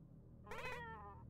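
A single short, clear meow from a cat in the video game Momodora: Reverie Under the Moonlight, close and fairly quiet, over a low steady hum.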